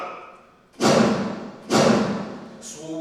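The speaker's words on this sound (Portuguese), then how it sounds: "soou o canhão do navio Aurora" A cannon fired from the cruiser Aurora gives two heavy booming thuds about a second apart, each decaying into a rumbling tail, with a smaller third impact at the end.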